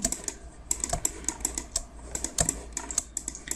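Rapid mouse clicks sound close and crisp while lines are drawn in geological section software, falling in irregular bursts of sharp taps with no talking.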